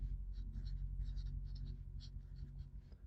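Marker or chalk scratches across a board during a thermodynamics lecture, a series of short, soft strokes in uneven bursts over a steady low room hum.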